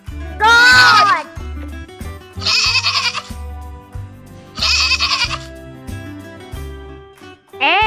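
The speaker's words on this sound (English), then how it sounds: "G for goat." Goat bleats repeat about four times in a loud, wavering cry, set against a bouncy musical backing with a steady beat.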